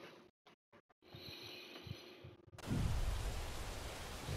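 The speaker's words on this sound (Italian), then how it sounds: "però piove" Rain in the WRC Generations rally game, a steady hiss that swells loud after a quieter stretch of soft engine idle and brief dropouts, with no talk.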